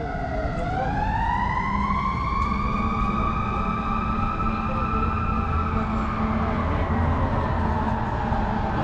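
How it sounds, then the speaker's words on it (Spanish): A fire engine siren wails loud and close, its rising and steady tone sweeping past for the whole stretch with road noise beneath, on a city street near a park during a crowded outdoor event. "son los bomberos"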